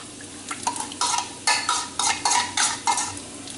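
Eggs go into a warm pan, with a run of quick scraping strokes and light clinks of a utensil against the pan over a soft sizzle, close and fairly loud.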